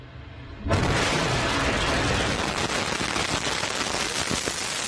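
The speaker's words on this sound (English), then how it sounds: "Lift off the Antares NG-19 launch vehicle, Wallops Flight Facility" Antares NG-19 rocket liftoff at Wallops Flight Facility: after a quiet opening, a sudden loud broadband roar begins and holds steady, dense and crackling to the end.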